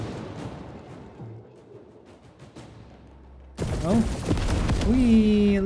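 Explosive charges detonating in Warhammer 40k: Space Marine 2, a sudden heavy blast cutting in after quieter moments of scattered distant booms, followed by sustained rumbling with a voice speaking over it.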